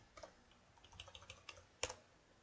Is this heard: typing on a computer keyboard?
yes